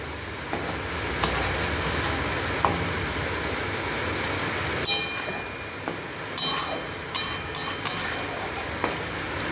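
Bhola fish frying on a tawa in mustard oil gives a steady sizzle, with several sharp metallic clinks and scrapes of a utensil against the pan near the end.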